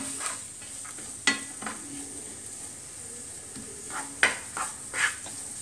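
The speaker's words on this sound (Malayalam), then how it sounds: "എണ്ണ ഒന്ന് ചൂടായിട്ടുണ്ട്. നമുക്ക് അതിലോട്ട് സവാള അരിഞ്ഞ് ചേർക്കാം." Finely chopped onions frying in hot oil in a pan, heard as a soft sizzle beneath a handful of sharp scraping stirs and clinks of a utensil against the pan, close and fairly quiet.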